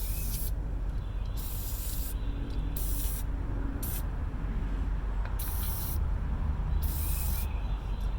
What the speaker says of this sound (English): I'm going to spray some penetrating oil and let that work on it